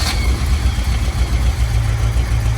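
A cold BMW engine runs at a steady idle right after starting, a loud, even low rumble with a constant throb and no voices.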